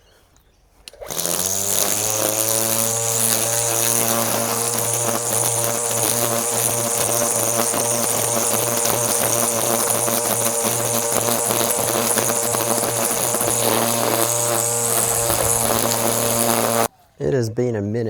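An Ozito 36V battery line trimmer cutting grass, a steady high electric whine held at full speed without bogging, close and loud, with a brief cutout near the end.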